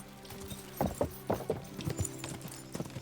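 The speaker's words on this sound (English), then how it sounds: "Oh, more horse racing." Horse hooves clip-clopping at speed during a horse race in the medieval video game Kingdom Come: Deliverance, a run of close, uneven hoofbeats over a low rumbling game backdrop.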